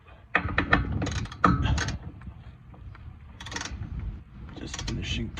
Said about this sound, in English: just finishing tightening these up.